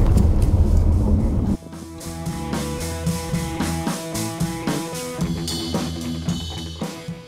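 A Peugeot 2008 creeping slowly in first gear along a gravel white road, its engine droning low and steady with rhythmic crunching and knocking from the tyres and suspension over the stones.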